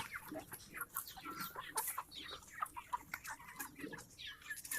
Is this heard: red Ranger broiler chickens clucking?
yes